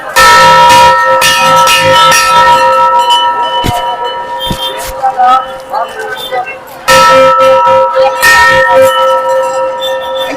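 Temple bells clang loudly and continuously at a four-day village puja in Bengal, with dense metallic ringing and overtones, a brief dip midway before the pealing resumes, and voices in the background.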